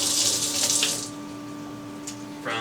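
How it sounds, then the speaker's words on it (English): Coolant spraying and splashing inside a Tormach 1100MX CNC milling machine, washing down chips and debris; a steady hissing water rush, loudest at the start and again near the end, over a constant machine hum. "We turn the coolant on. That's where you can wash down all the chips and debris"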